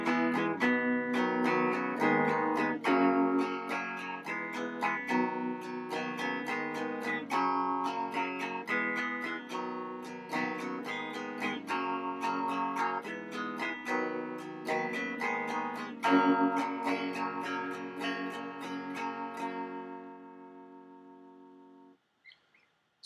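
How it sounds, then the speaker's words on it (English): Acoustic guitar strummed steadily through a repeating four-chord progression, played alone and close with even rhythmic strokes, fading out at the end. "once you listen to it and you get down the strumming and you start to play, it should sound something like this."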